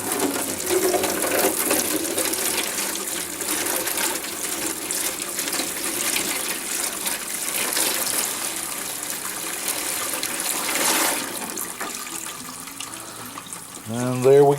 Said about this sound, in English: we're starting to collect our wort now